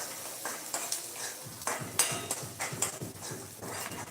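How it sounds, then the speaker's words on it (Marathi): A utensil stirs onion with crushed ginger and garlic frying in a pan. Quick, rhythmic scraping and tapping sounds over a low sizzle, close and fairly quiet, with no voices. "टाकायचा लगेच कांदा आता कांदा आणि हे छान तळून घ्यायचं आहे"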